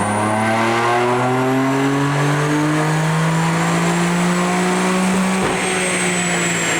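A BMW F82 M4 tuned with a JB4 on Map 1 and 91 octane pulls hard on a dyno, the engine note rising steadily in a loud, continuous wail for several seconds before easing off near the end.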